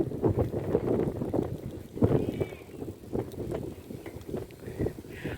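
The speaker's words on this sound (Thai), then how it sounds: "ลมผ่านน้ำมาเนาะ" Wind blows across open water in a wetland park, a steady broadband rush with gusts and microphone buffeting, loud and close throughout while faint footsteps and movement sound underneath.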